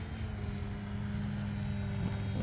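A small engine drones steadily overhead with a constant buzzing tone, loud and unbroken, as an E-flite Valiant model airplane makes a pass at a flying field.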